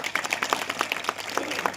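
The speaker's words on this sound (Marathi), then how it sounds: "आंबेवाडीकरांसाठी एकदा जोरदार टाळ्या." Applause from a crowd at a political rally, steady scattered clapping close by and moderately loud for a couple of seconds.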